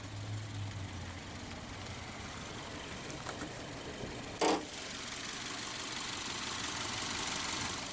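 A 2021 Subaru Ascent's 2.4-liter turbocharged flat-four boxer engine idles, humming low and even throughout, with a brief sharp click midway, heard close and alone without voices.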